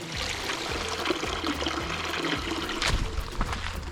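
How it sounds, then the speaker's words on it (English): River water flows steadily in Maragoli Hills Forest, Kenya, a continuous rushing wash with low gurgling beneath, heard nearby and alone without any voices. "The rivers are coming back."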